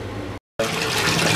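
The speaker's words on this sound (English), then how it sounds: "I'm gonna put this under running water, so it makes it really foamy" Tap water pours into a bathtub to foam up a minty bath mix, a loud steady rushing gush that cuts out briefly and then resumes just as strongly.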